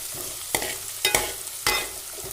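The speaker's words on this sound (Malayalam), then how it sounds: "നമുക്കിച്ചിരി തീ കൂട്ടി വെച്ചിട്ട് കരിയാതെ സവോളയൊക്കെ ഒന്ന് സോഫ്റ്റ് ആകുന്നിടം വരെ ഒന്ന് വഴറ്റിയെടുക്കാം" Onions sautéed over raised heat in a pan while making green gram thoran, a steady close sizzle broken by three distinct scraping stirs, with no talking.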